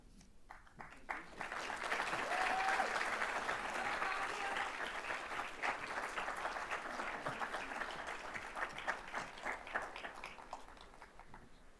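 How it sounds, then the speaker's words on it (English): A large audience at a business school awards ceremony at Lincoln Center applauds for about twelve seconds, a dense steady roar of clapping heard from within the hall. "Let's give the Finance Scholars another round of applause."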